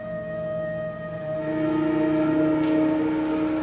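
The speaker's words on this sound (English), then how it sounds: "that's the train" A train passes at night, heard as a steady tonal horn-like drone with a rumbling rail hum that swells louder partway through, sustained and fairly close, with no talking.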